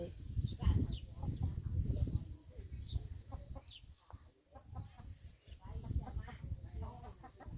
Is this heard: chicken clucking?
yes